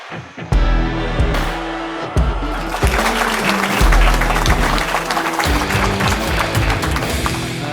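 A stand-up comedy crowd breaks into applause for the comedian, with bursts of clapping, sharp taps and low thumps building into continuous clapping mixed with crowd noise.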